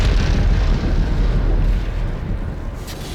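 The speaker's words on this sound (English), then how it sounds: "Yeah, that was a pretty big explosion." A big explosion in the Warframe video game: a heavy, roaring rumble that stays loud and dense, then gradually eases off as the blast fades.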